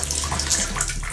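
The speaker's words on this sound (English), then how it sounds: "It'll fill it up a little water" Water pours steadily from a tap into a bathtub with the drain plugged, a close, continuous splashing rush with no talk.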